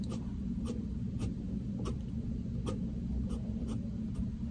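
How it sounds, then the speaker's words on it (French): A colored pencil shades on paper, pressed and released in a series of soft, brief scratchy strokes spaced roughly every half second over a quiet low background hum, close and faint. "je dépose le crayon, j'appuie et je relâche le crayon"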